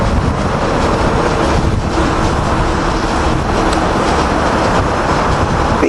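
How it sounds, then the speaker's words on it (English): SEPTA train 9745, led by AM 7 locomotive 2306, rolls into Cornwells Heights station with a steady, loud, close rumbling roar that fills the whole stretch. "SEPTA train 9745 is pulling in with an AM 7"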